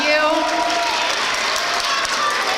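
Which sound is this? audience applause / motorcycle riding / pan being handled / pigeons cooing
audience applause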